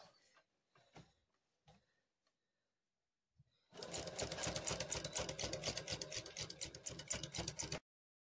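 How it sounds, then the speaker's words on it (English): A sewing machine stitches a quilt, running in a steady rapid chatter for about four seconds after a few faint clicks and handling noises. "drop our needle, drop our presser foot, and start sewing."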